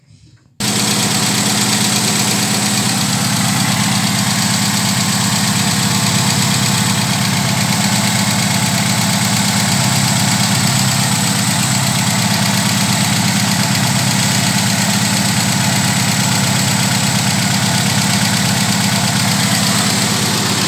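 A warm Volkswagen AP engine in a VW car idles steadily and loudly, a constant close mechanical drone with even vibration that runs uninterrupted for the whole stretch.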